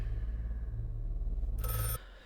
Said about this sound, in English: And the phone should ring